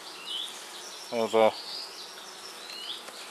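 Honey bees buzz faintly around an open hive during a Norfolk inspection for a new queen, a soft steady hum with a brief voice speaking over it.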